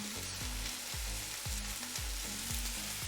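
Onion and garlic fry in a pan with a bright, steady sizzle, and a utensil scrapes or stirs through them in a regular rhythm about every half second, close and alone.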